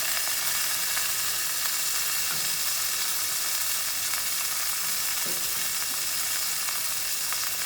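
Vegetables warming in a pan until translucent give a loud, continuous, close sizzle and hiss that stays dense and even throughout, with faint stirring underneath.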